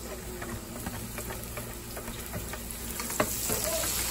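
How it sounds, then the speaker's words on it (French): Condiments poured into a pan over cooked onions for a vegetable and gizzard dish, sizzling and frying steadily with scattered crackles and stirring taps. "Maintenant que les oignons sont cuits, je vais verser les condiments."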